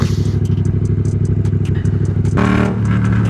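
A Sur-Ron electric dirt bike is ridden with a loud, steady motor drone and rattling clatter, wind buffeting over it, and the pitch and intensity shift upward partway through.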